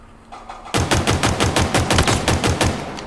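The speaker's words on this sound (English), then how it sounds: "it does shoot quite fast, and as you're seeing, reloading is pretty much instantaneously as well" Rapid automatic gunfire in Halo Infinite, a sudden burst of about fourteen evenly spaced loud shots in quick rhythm after a brief quiet lead-in, with no talk over it.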